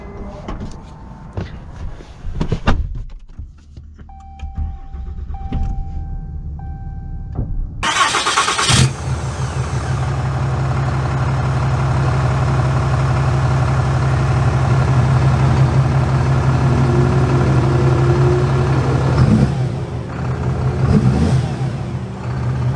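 2022 Ram heavy-duty pickup, Limited Night Edition with 4,000 miles: a few door and interior clunks, then the engine cranks and catches with a loud burst, settling into a steady, deep, close idle that runs on alone.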